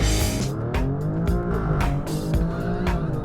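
A 2019 Alfa Romeo Stelvio Quadrifoglio or Mercedes-AMG GLC 63S performance SUV accelerating hard, its engine note rising and snapping through rapid gear shifts with sharp breaks between pulls, loud and steady throughout.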